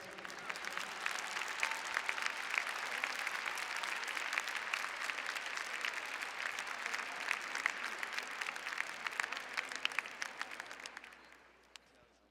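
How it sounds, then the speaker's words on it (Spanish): Steady audience applause, a dense patter of many hands clapping at moderate distance, holding for several seconds before fading out at the end. "Un fuerte aplauso nuevamente."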